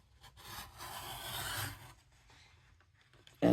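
A paper trimmer's blade slides across a card with a soft, close scraping rasp for a second or so, followed by quieter handling and a sharp clack at the end.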